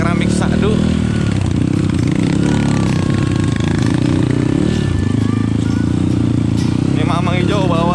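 Motorcycle riding off-road on a trail route near Jonggol, a loud, continuous engine drone that rises and falls with the throttle while people talk and laugh over it.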